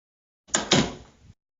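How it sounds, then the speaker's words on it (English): A door being shut: a quick double knock of impact as it closes, followed by a short rattling settle, loud and close in an otherwise quiet room. "Close the door!"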